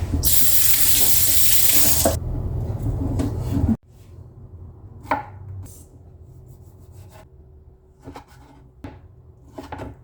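A running tap gushes loudly into a kitchen sink for a couple of seconds, then shuts off, leaving quieter rubbing, clinking and handling sounds as something is washed by hand nearby.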